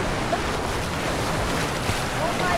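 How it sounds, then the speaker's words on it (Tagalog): Strong ocean waves wash steadily around a boat at sea, a dense broadband roar with wind noise and a few brief surges, continuous for the whole stretch. "Ang lakas ng alon."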